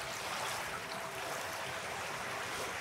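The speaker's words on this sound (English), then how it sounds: "let's enjoy a little bit in that flow of water." Water flowing in a stream, a steady, dense rushing and burbling that stays even and continuous from start to finish, close and moderately loud, with no voices.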